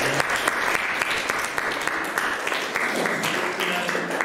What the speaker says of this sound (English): can we have another round of applause for everyone who's received the medal?